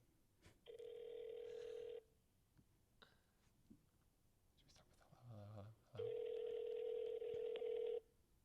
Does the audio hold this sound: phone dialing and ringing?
yes